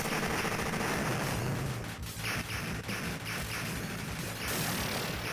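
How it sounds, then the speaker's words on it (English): Arcade shoot-'em-up Raiden II fires dense, loud, continuous bullet fire with rapid machine-gun bursts and crashing impacts that pile up without a break during a boss fight. "I see bullets flying around from everywhere."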